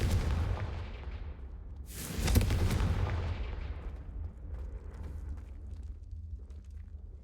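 Confringo fire spell blast in the Hogwarts Legacy video game, a sudden loud explosive boom with a crackling burst that rumbles and fades over a few seconds, no talking.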